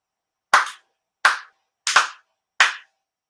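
Four distinct, crisp hand claps sound at a Shinto prayer gathering, evenly spaced about three quarters of a second apart, each ringing briefly into a quiet room.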